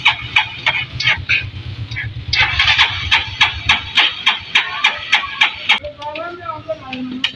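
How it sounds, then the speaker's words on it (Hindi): A loader rickshaw engine is kick-started and catches into a loud, steady, rhythmic chugging beat close by, while voices are heard briefly near the end. "ले किक मार रहा है"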